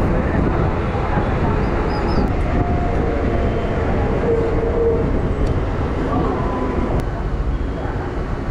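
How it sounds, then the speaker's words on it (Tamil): A train pulls to a stop at Tirumalpur railway station, a steady low rumble and rolling noise with faint squeals and a few light clanks, heard from on board. "இப்போ ட்ரெயின் நிற்கிறது தான் திருமால்பூர் ரயில்வே ஸ்டேஷன்"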